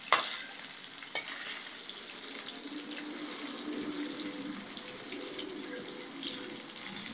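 Skinless pork sausages fry in a pan, a continuous close sizzle with occasional stirring clatter, loudest at the start, with no talking.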